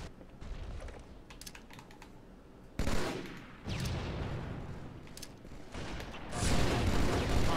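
Rapid gunfire bursts from the Halo 2 video game in a team doubles match, dense and overlapping with loud bangs and sustained volleys across the clip, with no clear talk over it.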